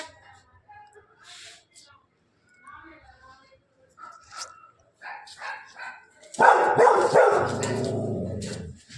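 A dog barks and yips close by, sharp bursts between scattered human voices, then a longer loud stretch of barking and commotion toward the end.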